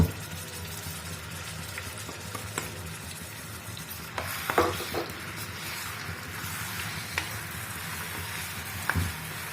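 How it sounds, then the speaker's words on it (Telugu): Paste of two medium onions frying in hot oil, a constant close sizzle broken by occasional spatula scrapes and knocks against the pan, no talking. "రెండు మీడియం సైజు ఆనియన్స్ కట్ చేసి పేస్ట్ చేసుకున్నది వేస్తున్నాను ఈ ఆయిల్లో."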